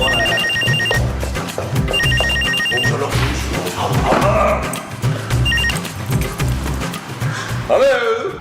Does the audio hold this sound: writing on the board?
no